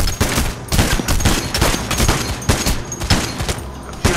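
Submachine gun fire in the game Payday: The Heist rattles in quick, loud bursts of shots, with sharp repeated cracks running almost continuously through the short stretch.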